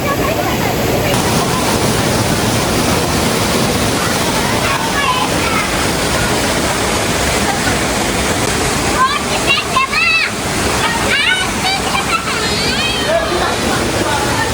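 Strong, fast-flowing water pours at a waterfall near a temple, a loud unbroken rush that fills the whole stretch while voices speak and call out over it.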